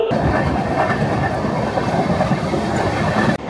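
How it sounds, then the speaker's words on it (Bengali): The Amrit Bharat Express, running from Malda to Bangalore, pulls out of Samalkot Junction. Heard from on board, it gives a loud, steady rumble with rolling wheel clatter that ends abruptly, and no one speaks. "আমাদের ট্রেন ছেড়ে দিয়েছে সামালকোট জংশন, পরবর্তী স্টেশন রাজমুন্দ্রি।"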